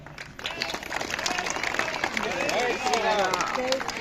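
Crowd at a Hindu gathering in Tirupati claps and cheers steadily, a dense wash of applause with scattered voices calling out throughout.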